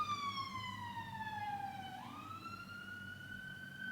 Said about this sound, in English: There's a fire somewhere because that was the fire engine.